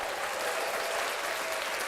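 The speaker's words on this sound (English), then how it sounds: "Let me play the applause." Recorded applause plays on a morning radio show, a steady, even wash of clapping filling the short moment with no talk over it.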